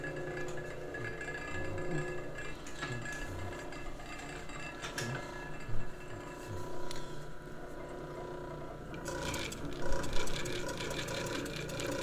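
A Merrow A-3DW-3 overlock sewing machine stitches slowly and steadily, giving a continuous mechanical whir with soft, regular clicking from its moving parts and cutting blade.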